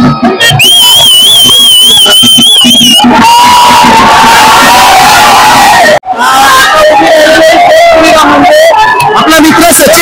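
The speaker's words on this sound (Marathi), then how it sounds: "जल्लोष बघा तुम्ही अक्षरशः." Loud crowd cheering and whooping at a village yatra festival as a tall kathi pole is raised, a dense roar of many voices with shouts and a shrill whistle-like cry early on, sustained throughout with a brief dip midway.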